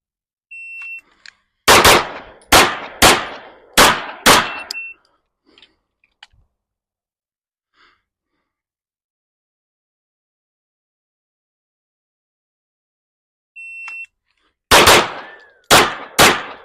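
Pistol shots fired at targets during transition drills come in two bursts of five sharp, loud reports each, spaced evenly, separated by a long silence with a couple of beeps from a shot timer before each string.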